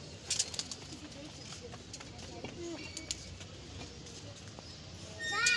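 Pigeons coo softly in the background while someone talks nearby; a few bird calls and light rustling come through, with a brief louder flutter near the end.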